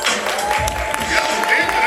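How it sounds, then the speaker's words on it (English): Audience applause and cheering at a fashion show, a short burst of clapping from the crowd with a voice talking over it. "Clap it up."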